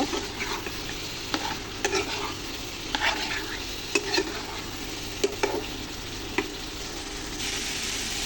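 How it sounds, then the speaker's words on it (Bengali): Boiled beef leg meat frying in a pan with spices as the liquid cooks down, a continuous hiss broken by repeated scraping strokes of a spatula, close and fairly quiet with no talking. "জলটা কমে আসছে, এবার আমি মাংসটা দিয়ে ভাজা ভাজা করে নেব।"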